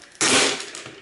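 A circuit board snaps free from a vintage TV chassis with a single sharp crack, then a brief rattle of loose plastic or wire, close by.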